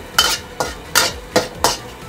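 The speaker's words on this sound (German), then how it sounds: "Wenn der Chili anbratet, passt auf." Chili frying in a pan, where the scraping strokes of stirring come in a steady rhythm of six evenly spaced passes over a faint sizzle, close and fairly loud with no talk.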